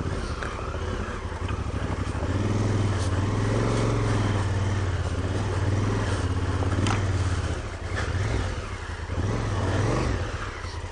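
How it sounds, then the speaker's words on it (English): A 2016 Honda Africa Twin CRF1000L motorcycle revs steadily as its rear wheel spins on wet moss and leaves on an off-road trail, a continuous loud engine drone rising and falling without letup. "Spinning on that moss."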